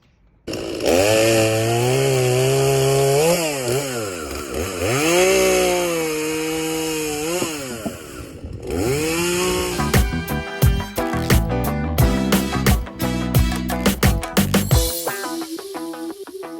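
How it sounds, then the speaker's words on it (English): A chainsaw runs up close, its engine revving up and down in long swells, then sputtering and chopping irregularly before settling. "now that you've filled up your chainsaw with gas"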